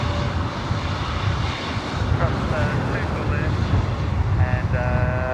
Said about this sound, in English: we're going to get this A321neo out of here